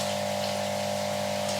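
Aquarium water bubbling steadily over filter media in a Nexus 200 filter, a continuous even trickle and burble with a faint pump hum underneath, nearby and unbroken.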